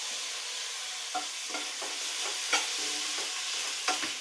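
Green chili, ginger garlic paste and tomato fry in a pan with a steady hiss, broken by repeated scraping stir strokes roughly every half second, close up with no talking.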